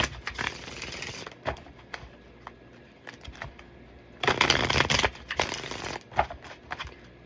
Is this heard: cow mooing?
no